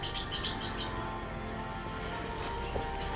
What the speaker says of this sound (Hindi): और आसपास बहुत सारा पंछी है, ये देखो।